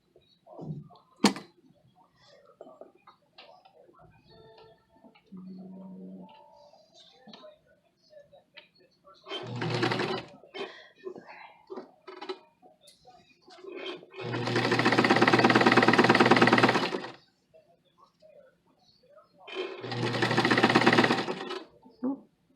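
An old sewing machine stitches fabric in three loud, steady runs of rapid mechanical whirring, the longest lasting several seconds, separated by quieter handling clicks and bits of talk.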